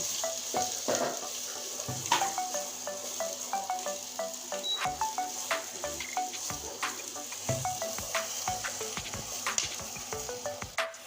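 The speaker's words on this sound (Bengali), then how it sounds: "এখন আমি এই পেঁয়াজের পাপড়িগুলো আমি একটু নেড়ে নিচ্ছি কাঁচা গন্ধটা তুলে দেওয়ার জন্য" Onion petals fry in a pan after bitter gourd, with a soft steady sizzle and repeated scraping, tapping strokes of a spatula stirring them, close by and without talk.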